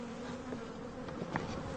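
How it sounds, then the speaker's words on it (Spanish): Honey bees brought up from the north fly around as they acclimatize, making a steady, close, droning buzz with a few louder passes as individual bees zip near. "Las abejas transportadas desde el norte se aclimatan volando."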